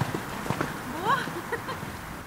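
Horses of mixed breeds and sizes clip-clopping on the ground of a riding paddock in a herd, steady nearby hoof knocks with a faint whinny-like tone and light background voices.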